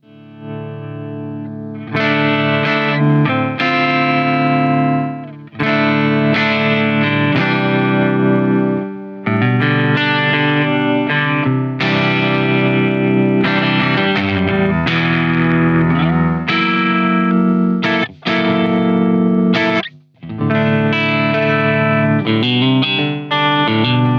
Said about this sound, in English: So that's some reverb and delay in the effects loop.